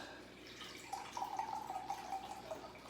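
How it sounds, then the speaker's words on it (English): About a cup of beef broth poured into a pot of three-bean and beef chili, a soft, close trickling pour lasting a couple of seconds over quiet kitchen background. "with about a cup of beef broth. Putting that in, adding some more beef flavor"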